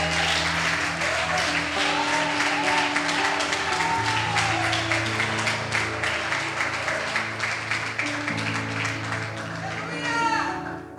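A church congregation applauds in praise of Jesus, with dense sustained clapping and crowd noise under an amplified voice and background music, fading slightly near the end.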